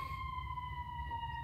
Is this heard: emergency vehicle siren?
yes